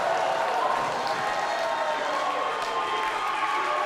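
A wrestling crowd cheers for Jody Threat during an intergender match against Joe Demaro. Dense, continuous roar of cheering and applause fills the space at a steady, loud level.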